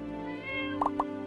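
A cat in the farming game My Time at Portia gives a short tonal meow, followed by two quick bright plopping blips, alone without speech.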